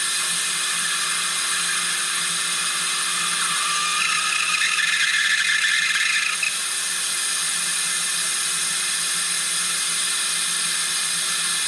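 A vacuum filler pulls a vacuum on the cooling system of a 2011 Ford F-150 with a 3.5L engine, giving a steady, close hiss and whir that holds at an even level throughout.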